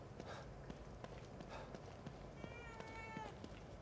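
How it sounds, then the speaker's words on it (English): Cat meowing in the survival horror game The Evil Within 2, a few faint high mews near the end over soft footsteps and a low ambient rumble. "I hear my kitty!"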